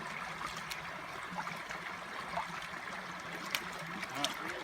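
Water washing through a gold pan with 1-inch-deep riffles while prospecting at a creek, a steady soft trickling and gurgling wash with small splashes, at moderate, even volume throughout.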